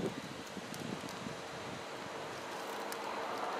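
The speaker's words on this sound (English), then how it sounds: "it's very windy outside, by the way" Wind blows outside, a soft, steady rustling hiss with faint low buffeting, quiet and continuous with no voices.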